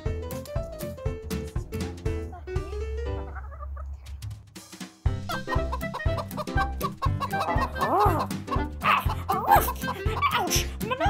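Chickens cluck and squawk close by in a comedy skit, busy overlapping calls mixed with a dog's yips and bursts of other noise.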